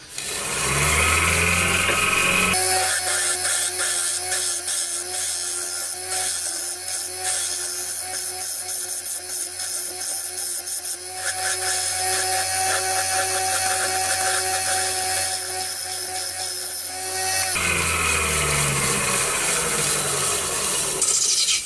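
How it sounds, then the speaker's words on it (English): A wooden bowl spins on a lathe while a scraper works its surface, giving a loud continuous rasping whir that starts sharply, holds steady for about fifteen seconds, then eases off, with no voices. "Yep, just a little bit more work. Just a few fine scrapes."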